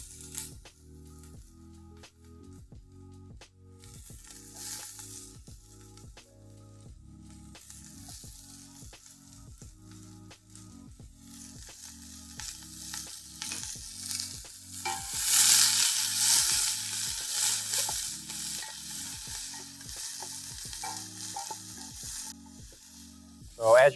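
Onion sizzles and fries in olive oil in a pan, a continuous crackle with stirring scrapes throughout that grows louder and brighter partway through.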